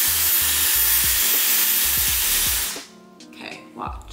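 A Dyson hair dryer blows steadily right beside the head during a blowout, a loud continuous rushing hiss that cuts off near the end, leaving quieter rustling and handling.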